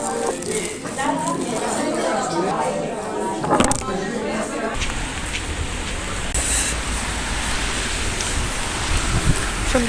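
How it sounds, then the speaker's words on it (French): Rain falls outdoors around midday as a steady, dense hiss that thickens after the first few seconds, with indistinct background voices underneath. "Il pleut"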